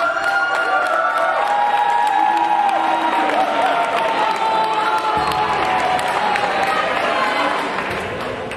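A school forum audience applauds and cheers for the 2009 student delegate candidates, a loud sustained wash of clapping with whoops that carries on steadily before easing off near the end.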